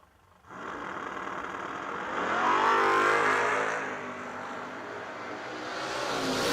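A 38 Chevy and a Nova launch in a drag race at the Yellow Bullet Nationals 2022: engines roar in after a brief silence, swell to a peak, ease off, then build again at moderate distance.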